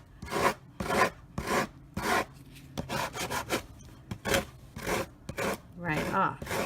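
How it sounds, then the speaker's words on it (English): Repeated rasping strokes of sanding against a paper edge, close up, in short irregular bursts with brief pauses between. "And by doing this sanding, all it is doing is sanding"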